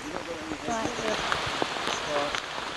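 Rain falls in the jungle with a steady patter on leaves and surfaces, and occasional sharper drops. Faint voices murmur beneath it.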